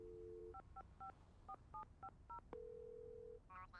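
A landline telephone plays a dial tone, then a quick run of about nine short DTMF key beeps as a phone number is dialed, then a steady ringback-style tone, all faint and clear with no voices.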